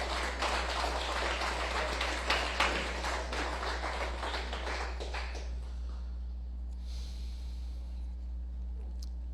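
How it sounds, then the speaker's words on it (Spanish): A congregation at a Torah teaching service applauds, a broad wash of clapping over a steady low hum that fades out after about five seconds, leaving near silence. "Le un fuerte aplauso al Rey de Reyes"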